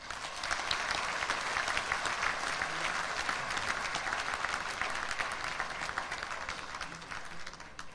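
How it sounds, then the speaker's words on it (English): An audience at a Bangladesh investment summit opening ceremony bursts into sustained applause, a loud dense roar of many hands clapping that holds steady for several seconds before easing slightly. "Let's give another big applause for them."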